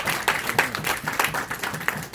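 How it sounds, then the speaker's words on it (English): A church congregation claps hands at a Sunday service, a brisk spread of clapping with a few sharper, closer claps standing out over the crowd. "Let's give God a hand clap this"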